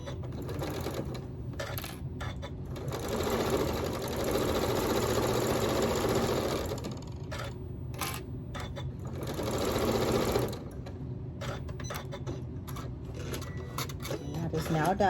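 Sewing machine running in bursts while stitching a quarter-inch seam on a Drunkard's Path quilt block, with a steady rapid whirring hum that pauses and restarts, loud and close.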